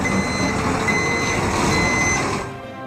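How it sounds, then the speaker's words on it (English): A truck backing up gives a steady electronic reversing beep over a low engine rumble, heard close and continuous until it fades at the end. "this sound of a truck backing up"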